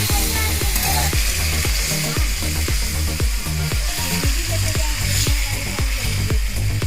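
Chicken pieces for a chicken curry sizzle loudly in a hot pan with browned spices. The frying hiss runs steady throughout, with regular scraping knocks as the meat is stirred, and no one talks.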